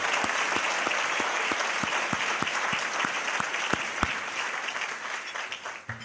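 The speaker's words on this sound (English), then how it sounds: "I think we need to give Derek a really, really loud round of applause for such a job well done." A loud, sustained round of applause from a crowd at a convention and visitors bureau luncheon, steady clapping filling the whole stretch without letup, tapering slightly at the end.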